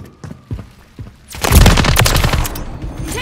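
Gunfire in Call of Duty Modern Warfare 3 multiplayer on the Rio map, with a few sharp separate shots followed by a loud sustained burst of rapid automatic fire and overlapping fusillade close by.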